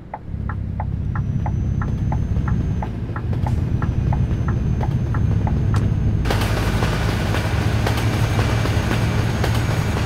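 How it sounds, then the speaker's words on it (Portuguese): A train passes beside the road, heard from inside a Scania truck cab hauling 22 tonnes of empty pallets near Natal, Rio Grande do Norte: steady rhythmic clacking over engine drone, then a sudden loud, broad rushing rumble. "Olha o trem passando ali do lado"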